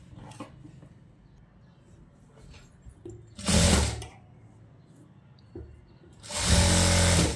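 A sewing machine stitches a straight seam along the bottom of a silk skirt in two short, loud bursts, separated by quieter handling and rustling.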